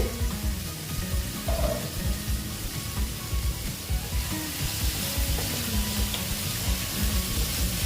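Soybeans sautéing in a covered pan give a steady close sizzle with soft stirring and scraping, loud and continuous, with no talk.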